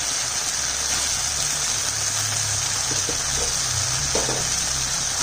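Boiled and fried potatoes drop into a pan of spice masala that has been cooked down, and a steady, close sizzle hisses continuously throughout with faint soft clatters of the additions.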